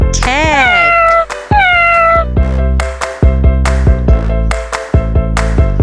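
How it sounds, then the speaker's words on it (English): A cat meows several times in quick succession, the first calls long and rising, the later ones short, heard close and loud over steady background music. "Cat."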